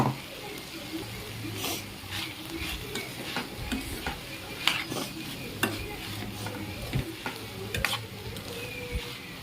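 Banana flower poriyal being stir-fried with ground coconut, a soft sizzle beneath intermittent spoon clinks and scrapes against the pan, fairly quiet and close.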